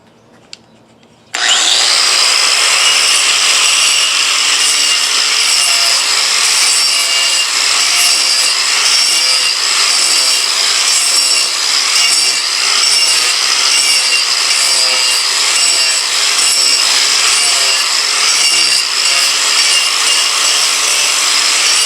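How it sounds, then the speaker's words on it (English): Hercules 11 amp angle grinder fitted with a Warrior cup wheel grinding into wood: after a quiet moment it starts abruptly into a loud, continuous, harsh abrasive roar that holds steady for about twenty seconds, close up, with no talking. "I'm back from that little demonstration with this Warrior cup wheel"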